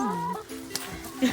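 Chickens cluck close by in short, uneven bursts, with a few higher squawks mixed in.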